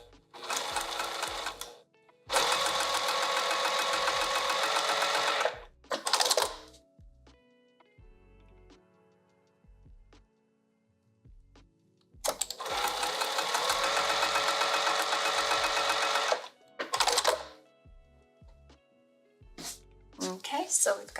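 A sewing machine stitching vinyl sling tabs runs in two bursts of loud rapid buzzing separated by quiet pauses, with brief clicks and handling noises in between and someone talking in the gaps.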